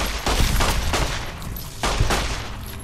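Rapid 9mm pistol gunfire in the video game Fallout New Vegas: a quick burst of loud, closely spaced shots filling the short clip, with no talking.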